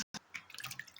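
Water trickling and dripping into a bowl of grapes with salt as they are set to soak, a faint close patter of small splashes and drips.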